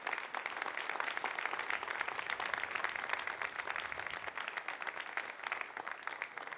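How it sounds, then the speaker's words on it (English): Control-room staff applauding after the ATV3 Edoardo Amaldi separates from an Ariane 5 on flight VA205, a steady, fairly faint patter of many hands clapping without a break. "And the applause heralding the good news"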